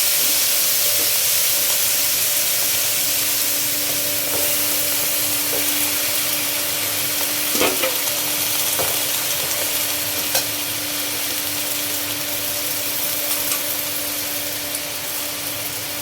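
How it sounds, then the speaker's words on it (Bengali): Malabar spinach hits a hot pan with dried fish and turmeric, setting off a loud, continuous sizzle and hiss with a few sharp crackles and stirring scrapes throughout. "এখন পুঁই শাকগুলো দিয়ে দিব।"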